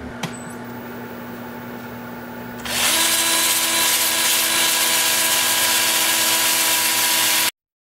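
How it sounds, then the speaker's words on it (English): A power sander with 80 grit abrades a 15-inch birch platter. A steady, loud whirring roar starts after a quieter motor hum and runs without a break until it cuts off abruptly. "I think it's time to sand."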